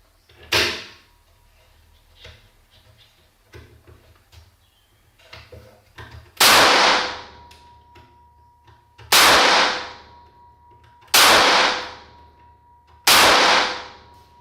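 A multi-barrel derringer pistol is test-fired at a target, one sharp shot followed after a pause by four more loud, evenly spaced reports, each with a short ringing decay, with quiet clicks and handling noises in between.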